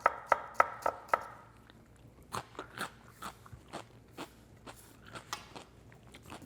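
A knife chops celery and shallot on a cutting board for tuna salad, starting with a quick, even run of crisp strikes and moving into slower, irregular crunchy cuts, close and alone.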